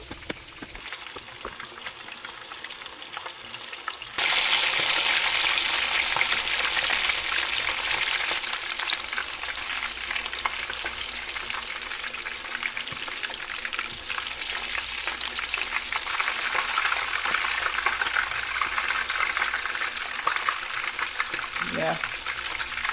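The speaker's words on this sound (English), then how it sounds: "while the fish is being fried on medium heat" Fish frying in oil on medium heat: a loud, steady hiss and crackle that starts suddenly after a quieter opening and continues without a break, with a brief voice near the end.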